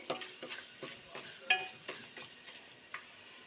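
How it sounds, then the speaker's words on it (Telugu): Fish curry ingredients fry in hot oil, a soft steady sizzle broken by regular scraping stirs and light clinks of a utensil against the pan, close by with no talking. "ఇదైతే బాగా ఆయిల్లో ఫ్రై అయ్యిందండి"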